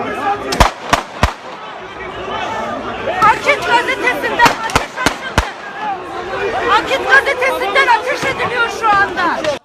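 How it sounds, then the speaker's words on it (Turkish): Sharp, loud gunshots ring out in quick bursts over an agitated crowd shouting and chattering in the background, during an attack outside a newspaper office. "O sırada silah sesleri yükseldi."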